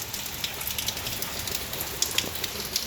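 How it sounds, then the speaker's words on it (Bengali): Heavy rain pours down in a dense, constant patter close by, with individual drops tapping sharply on a surface, and no voices. "দেখো কেমন ঝমঝম করে বৃষ্টি হচ্ছে"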